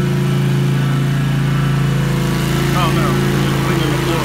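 A floor cleaning machine runs inside a Target store, giving a loud, steady motor drone like a lawn mower that holds constant throughout without pause.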